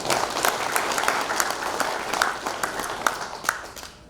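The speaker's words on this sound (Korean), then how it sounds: "박수로 청해 듣겠습니다." An audience applauds at a launch ceremony in Gwanghwamun Square, Seoul, a steady dense clapping with sharp individual claps standing out, continuous and fairly close, fading slightly toward the end.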